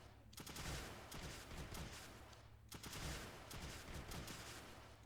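Launchers in the video game Creeper World 2 firing in a rapid, continuous barrage, a dense rattling stream of shots that swells in repeating waves at steady loudness.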